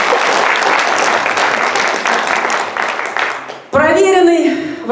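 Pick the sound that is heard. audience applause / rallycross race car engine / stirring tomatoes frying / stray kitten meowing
audience applause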